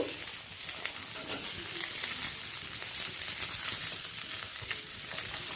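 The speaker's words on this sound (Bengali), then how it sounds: "প্রত্যেকটা সবজি খুব হালকা লাল করে ভেজে নেব" Cauliflower and potato frying in oil for egg chowmein, giving a dense, continuous hiss and crackle at an even, fairly loud level, heard up close with faint stirring and no voices.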